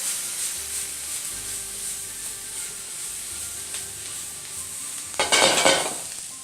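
Vegetables with hot pepper flakes and a garlic clove stir-fry in a pan for a beef stir fry, giving a soft steady sizzle and then a short loud burst of tossing and scraping near the end.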